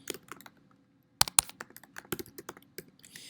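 Typing on a computer keyboard, a brisk irregular run of sharp key clicks close by after a brief quiet start, with no talking.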